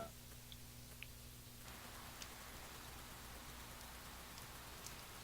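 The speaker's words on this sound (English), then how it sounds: "It's raining now." Steady rain falling in the Persona 4 video game, a soft continuous hiss with faint scattered drop ticks, quiet and alone.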